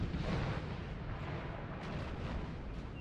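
Artillery fire in a large Napoleonic Total War 3 multiplayer battle, a dense rumbling wash of distant cannon booms blending into a continuous low roar, steady and moderately loud throughout.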